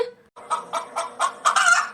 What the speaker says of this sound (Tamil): இங்க பாருடா கோழி இங்க பாரு கோழிய பாரு